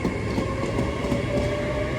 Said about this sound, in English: Well, there goes your Great Western Railway service going to London Paddington from Bristol Temple Meads.